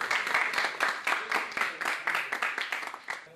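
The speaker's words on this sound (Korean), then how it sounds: "여러분 박수 한번 주세요" Audience applause breaks out at a school gathering after a student is announced as a grand prize winner, a dense, steady patter of many hands clapping at close range for several seconds.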